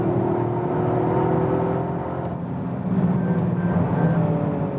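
A 2021 Toyota GR Yaris with its 261 hp all-wheel-drive engine driving in sport mode, a steady close engine drone and whir with light rises in revs, no talk.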